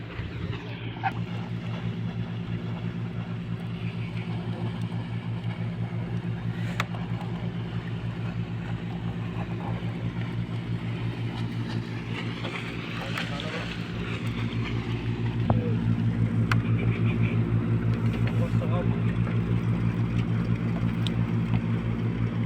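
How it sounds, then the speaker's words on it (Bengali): Large ships passing very close beside a small river boat, with a steady deep engine drone and churning water rumble throughout that grows louder and heavier in the last several seconds as a second ship draws near. "এদিক থেকেও একটা জাহাজ আসছে।"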